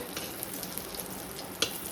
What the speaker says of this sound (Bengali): তো এখানে আমি পটল ভাজছি এখন